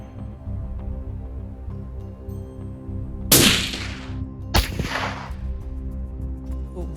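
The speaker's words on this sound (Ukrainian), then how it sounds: "роблю іще один постріл" Two sharp rifle shots crack out about a second apart, close and loud with a brief echoing tail, over a constant low electronic hum.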